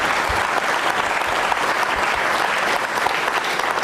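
Sustained, dense applause from an audience at a devotional program honoring Lord Krishna, steady and loud from start to end with no pauses.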